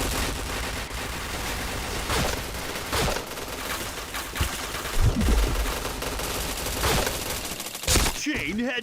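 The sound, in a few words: gunfire in a video game, headshots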